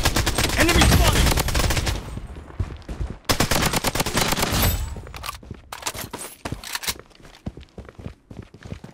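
Project Bloodstrike shooter gameplay with heavy automatic gunfire: dense, loud bursts of rapid shots come in waves, mixed with footsteps. The firing thins out into scattered, sharper single shots toward the end.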